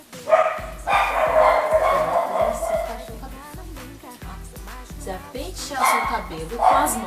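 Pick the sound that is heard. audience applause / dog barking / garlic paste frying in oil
dog barking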